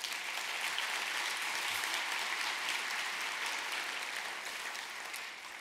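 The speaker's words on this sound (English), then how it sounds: "I ask that everyone please give them another huge round of applause." An audience at a First Tee of Central Coast event breaks into loud, sustained applause, a dense wash of many hands clapping that holds steady and then tapers slightly at the end.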